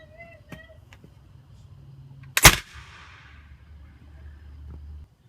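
A homemade potato gun cannon fires once with a single sharp, loud blast that rings out and decays over a quiet outdoor background with low rumble; no one speaks during the shot.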